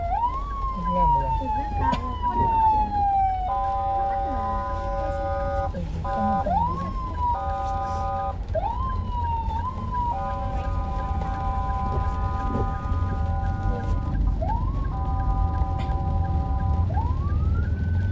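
A loud, close siren cycles between rising wails and steady multi-tone blasts, running continuously throughout.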